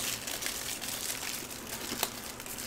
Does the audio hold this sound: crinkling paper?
yes